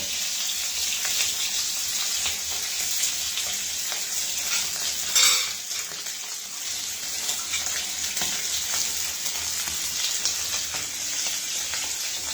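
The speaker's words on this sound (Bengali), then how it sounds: "এই আলুগুলোকে একটু লাল করে ভেজে নেব।" Salted boiled potatoes fry in a pan until reddish for masala aloo dum, giving a steady, close, hissing sizzle with light stirring scrapes and one brief louder crackle partway through.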